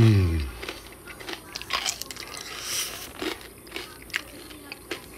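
Someone bites and chews fried pork rinds (chicharron) up close, making a series of crisp crunches and crackles over several seconds that are quiet and intimate and come with faint mouth sounds.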